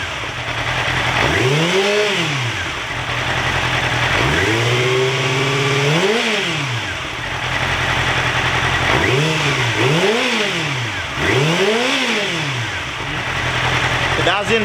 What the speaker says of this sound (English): I'm going to give it a little bit of gas,